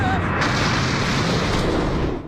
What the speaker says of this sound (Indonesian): Ledakannya begitu dahsyat